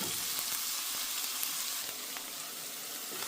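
Cauliflower rice fries in a pan with a dense, steady hiss and sizzle, close by, with faint scattered pops and no voices.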